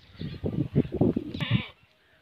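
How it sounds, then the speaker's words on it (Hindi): A calf on a farm, with buffalo nearby, bleats in a close, short run of wavering cries that fade out at the end. "ये बड़ा कटा है और ये भैंस है और ये छोटा कटा है"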